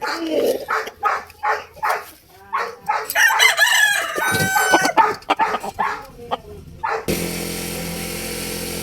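A gamefowl rooster crows once in a backyard breeding pen, a loud, drawn-out call near the middle, while someone talks over short animal calls and clucks before it.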